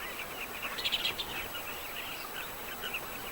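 Colony of carmine bee-eaters on the banks of the Zambezi calling: faint, distant chirping and twittering over a steady hiss, with a brief busier burst of calls near the start.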